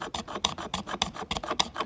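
A knife spine scraping a ferro rod in quick, even strokes, about a dozen rasping scrapes in a steady rhythm, close and moderately quiet, with no talk.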